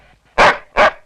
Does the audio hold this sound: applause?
no